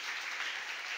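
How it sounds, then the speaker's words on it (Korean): A church congregation applauding during a Sunday morning service, a brief burst of dense, even clapping from many hands in a large sanctuary. "찬양대 박혜정 집사님이 지휘하게 됐는데 잘 오늘같이 은혜로운 찬양만 기도하면서 잘 골라서 해주라고 격려하며 박수해 주시기 바랍니다."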